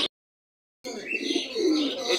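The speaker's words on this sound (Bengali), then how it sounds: "এটা আপনার জ্যাকোবিন, হল্যান্ডের জ্যাকোবিন, ব্ল্যাক কালারের জ্যাকোবিন" A black Holland Jacobin pigeon at a busy pigeon market gives a short, close, throaty coo that starts after a brief moment of silence and carries on to the end.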